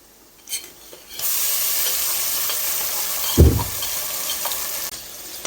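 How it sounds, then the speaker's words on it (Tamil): Ground masala paste hitting hot oil with onions in a pan for mutton biryani, a sudden loud sizzle and steady frying hiss with a thump of stirring partway through, close and without talk. "அதனால இந்த ரா ஸ்மெல் போற வரைக்கும் நல்லா வதக்கணும்."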